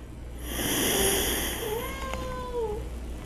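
Cats meow in a couple of drawn-out, wavering calls over a steady hiss of background noise, moderately close with no talking.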